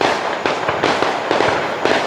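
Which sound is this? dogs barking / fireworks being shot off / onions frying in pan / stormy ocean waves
fireworks being shot off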